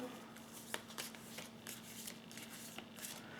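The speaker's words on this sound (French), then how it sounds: "je vais prendre encore 2 cartes" Tarot cards are shuffled and drawn by hand, a soft riffling and sliding of card stock in repeated short bursts, close up, with a steady faint hum underneath and no talk.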